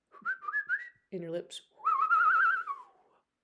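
A person whistling, a few short rising chirpy notes, a brief voiced breathy sound, then a longer warbling sustained whistle that slowly falls and fades, close and clear.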